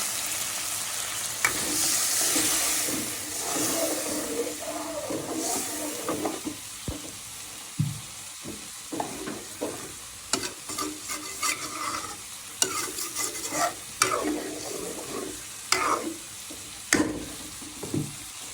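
Curry in a pan with oil risen to the surface bubbles and sizzles loudly after water is poured in, settling into steady frying hiss broken by repeated clinks and scrapes of stirring.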